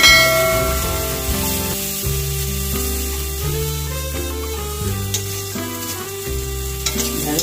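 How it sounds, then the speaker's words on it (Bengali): Okra sizzles and crackles in a pan with ground turmeric, a steady hiss of frying broken by the scrape and clatter of stirring, close up with no voices. "একটু বাটা হলুদ দিয়ে ঢ্যাঁড়সটা ভেজে নিচ্ছি।"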